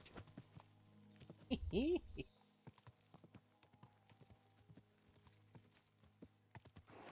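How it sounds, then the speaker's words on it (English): Hooves clip-clop in a steady rhythm close by, with a short horse whinny early on. "Watch out with that horse!"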